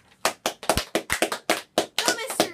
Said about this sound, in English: Good clapping